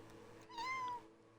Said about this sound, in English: That was my cat again.